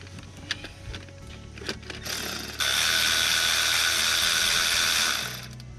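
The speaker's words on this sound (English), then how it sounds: "Now we'll use the electric ratchet, if it'll fit." An electric ratchet loosens bolts on a Cummins engine water pump: a few light mechanical clicks, then a loud, steady whirring burst that runs for nearly three seconds before cutting off.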